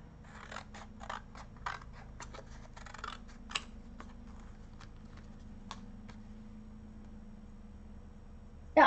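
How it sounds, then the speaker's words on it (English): Scissors trim a piece of paper in a run of quick, crisp snips, several closely spaced, then a few sparser cuts, close and fairly quiet with no talking. "I gotta trim another piece here"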